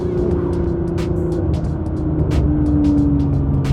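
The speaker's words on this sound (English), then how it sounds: "One of my favorite things about GTRs is the downshifts." Nissan GT-R engine rumbling steadily close by, with a sustained low drone and repeated sharp crackling bursts through the upper range that fit quick downshift pops, continuous for about four seconds with no talking.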